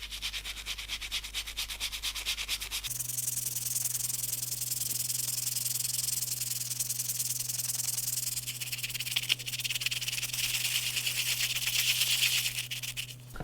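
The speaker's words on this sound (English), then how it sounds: "Just going to give them a light scrub just here with a soft nylon brush." A soft nylon brush scrubbing Gucci kitten heel shoes, a steady close rubbing and brushing sound that runs continuously over a low electrical hum.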